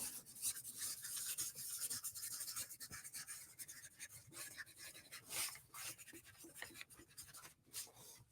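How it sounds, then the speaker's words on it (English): Chisel-tip Posca paint marker scratching out script on handmade calligraphy paper, a close, faint dry rasp in short irregular strokes with brief pauses between letters, no talking. "the chiseled Posca marker here. And I'm just going to do some script on it."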